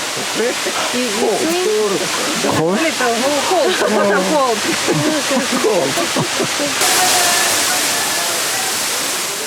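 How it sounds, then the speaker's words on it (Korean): A cold waterfall in Malaysia pours with a loud, steady roar throughout, while people talk over the rushing water. "보기만 해도 시원한 물벼락이다"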